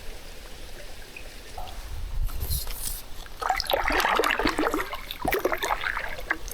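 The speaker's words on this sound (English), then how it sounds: "I can hear water coming in, but it's underneath all that rubble there" Water running hidden beneath glacier rubble, a soft, steady trickle and gurgle that swells and grows busier partway through, heard close against a breezy outdoor background.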